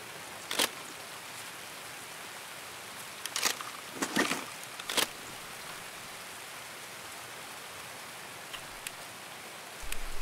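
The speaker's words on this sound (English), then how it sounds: "And it's raining" Steady hiss of rainfall in Escape from Tarkov fills the background throughout, with a few brief sharp gunshot bursts standing out over it; no one speaks.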